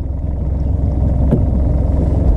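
A fishing boat's outboard motor idles along on a calm lake during a crappie trip at Deer Creek, giving a steady, close, low rumble throughout with no talk.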